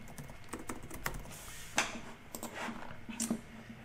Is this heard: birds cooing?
no